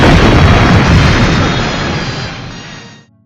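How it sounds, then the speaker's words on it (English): Point-blank starship phaser fire in classic Star Trek ends in a loud, broad explosion that roars for about three seconds, then slowly thins out and cuts off, with no voices. "Phasers, fire, point blank"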